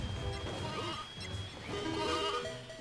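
Sheep bleating in the PS1 video game Toy Story 2, several wavering cries close together over busy game music and effects, fairly loud throughout.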